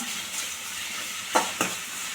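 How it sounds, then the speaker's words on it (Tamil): Tomatoes and onions sizzle steadily in a pan while cooking a Tamil-style egg kurma, with two quick scraping stirs near the end. "லைட்டாக வதக்கி விடுங்க இப்போ தக்காளி வதங்கிறதுக்கு உப்பு கொஞ்சம் சேர்த்துக்கோங்க"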